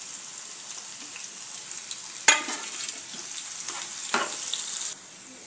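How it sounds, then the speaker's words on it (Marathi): Chopped onion with garlic and cumin frying in hot oil while being stirred in a pan, a steady close sizzle with two sharper clatters of the spoon, cut off abruptly near the end. "तेलामध्ये कांदा चांगला परतला गेला आहे सोनेरी रंगावर।"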